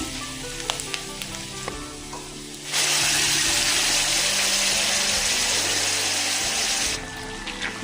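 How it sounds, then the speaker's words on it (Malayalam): Boiled beef dropped onto sautéed onions in a hot pan for beef roast; after a few light clatters, a loud, sudden hiss bursts out and holds steady for several seconds before easing back, close and without speech. "ഇനി നമുക്ക് ഇതിലേക്ക് വേവിച്ച് വെച്ചിരിക്കുന്ന ബീഫ് ഇട്ട് കൊടുക്കാം"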